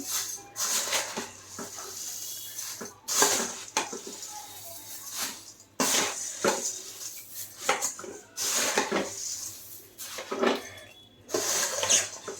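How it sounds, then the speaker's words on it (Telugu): Puffed rice masala tossed and mixed in a bowl, bursts of dry rustling and light clinking of a utensil against the bowl in repeated strokes, close and moderately loud, with a faint low hum underneath. "ఇప్పుడు వీటిని బాగా కింద నుంచి పైదాకా అయితే కలిపేసుకుందాం"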